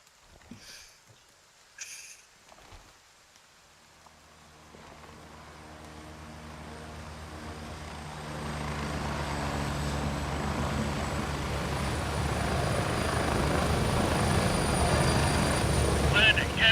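A military helicopter in the shooter game Gray Zone Warfare: its rotor drone starts faint and swells steadily louder and closer for the whole stretch, with a couple of brief clicks and a voice early on.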